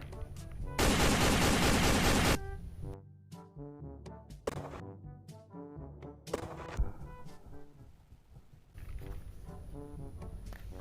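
Pistol gunfire from a video game with dinosaurs: a dense burst of rapid shots, then scattered single bangs among growling, roaring creature sounds and game effects.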